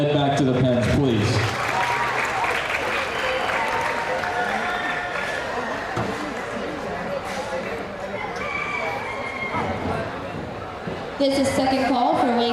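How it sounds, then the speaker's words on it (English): Audience applause at a county fair livestock show, a steady crowd clapping that fills most of the stretch, with an announcer's voice heard over it at the start and end. "Give them a round of applause and head back to the pens, please."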